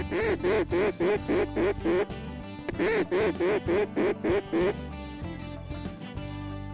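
A duck quacks in fast rhythmic series of repeated calls, two long bursts of about a dozen quacks each, loud and close, with outdoor wind noise behind during a waterfowl hunt in South Dakota.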